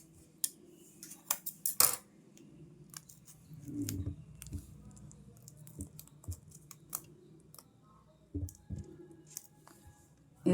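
Parcel tape cut into a small piece with scissors, heard as a run of quick close snips and crisp clicks. Soft rustling and handling noises fill the quiet gaps.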